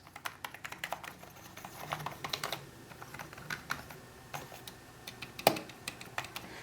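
Light taps on an Efisday K510 backlit membrane gaming keyboard, a quiet, irregular patter of soft clicks close to the microphone, with one slightly sharper key strike partway through.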